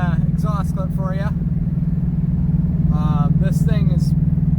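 Toyota Corolla fitted with a 3-inch exhaust pipe runs with a steady, loud low rumble throughout, while someone talks over it in two bursts.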